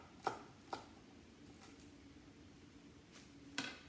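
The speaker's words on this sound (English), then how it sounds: "we are going to do a little bit more chopping here." Knife chopping celery on a cutting board in a home kitchen while making Cajun red beans and rice: a few sharp, isolated chops spaced well apart, close and moderately loud, with quiet pauses between.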